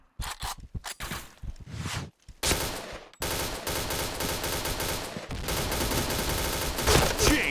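Sharp gunshots ring out during headshot practice in a shooting video game, first in scattered single cracks with brief gaps, then building into dense rapid strings of fire with footstep-like shuffles, loud and close.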